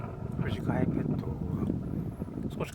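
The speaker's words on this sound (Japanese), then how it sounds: "少し風が吹いてきたので、" Wind gusts across a campsite, a low rumbling buffet on the microphone that persists under a man's ongoing speech.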